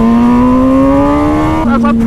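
An MV Agusta Brutale 1000 RR motorcycle engine, a 2020 208-horsepower super naked bike, revs loud and close. The tone climbs steadily, then drops sharply near the end as the throttle changes, with the engine running continuously throughout.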